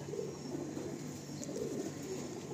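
A female Andhra Star Kalanka pigeon in a loft coos softly, with low, repeated throaty calls that stand out faintly against a steady background hum.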